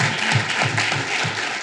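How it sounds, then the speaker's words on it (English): Brief, loud burst of audience applause after a talk at a restorative justice and domestic violence conference, close and dense clapping with some louder hand claps standing out. "I think a round of applause is appropriate."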